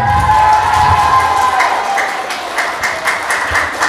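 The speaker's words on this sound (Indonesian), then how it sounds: "Mungkin perlu diberi tepuk tangan dulu ini" An audience at an Islamic boarding school Alfiyah recitation competition breaks into applause, mixed clapping and crowd noise with some cheering, under a lingering tone as the sound gradually thins.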